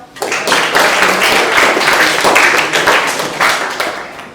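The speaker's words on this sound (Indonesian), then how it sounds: "Boleh tepuk tangan dong." A class of students clapping, a loud burst of close, crisp handclaps that swells quickly, stays dense for about three seconds, then tapers off.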